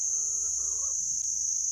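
A chicken gives a short run of warbling clucks near a coconut being split, brief and moderately close over a steady high insect drone.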